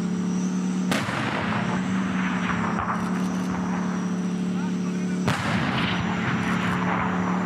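Tank cannons fire at targets during a crew training exercise, with two heavy booming shots roughly four seconds apart over a constant low engine drone.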